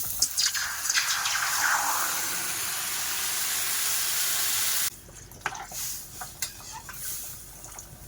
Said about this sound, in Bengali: জল দিয়ে দিয়েছি এবারে ঢেকে দেবো